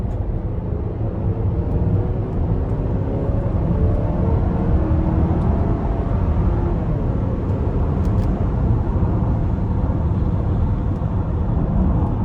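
A 2025 Buick Enclave Avenir pulls away on the road, heard from inside the cabin as a steady, low road-and-engine roar with faint rising tones. The sound holds at an even level throughout, with no talking.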